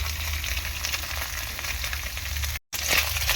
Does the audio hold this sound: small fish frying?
yes